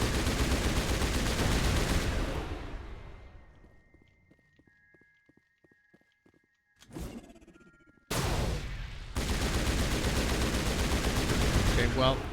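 Gunfire in the Mass Effect game: dense, loud bursts of shots that fall away to near-quiet with faint ticks, then return in sharp, sustained volleys.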